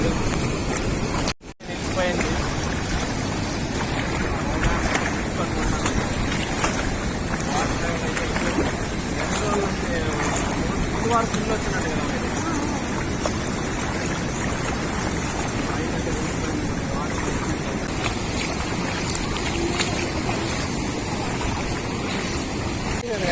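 Fast river water rushes over the Muddenahalli bridge in a steady, loud broadband roar with wind buffeting, continuous throughout, with people talking faintly in the background.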